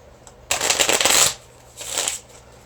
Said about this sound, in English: I like to do just a standard card shuffle